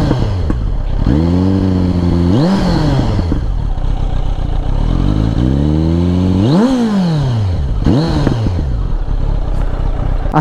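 Superbike engine revving hard on a road ride from Kolkata to Puri, with three loud rising-and-falling throttle blips close by, each climbing sharply in pitch before dropping back to a rumbling idle.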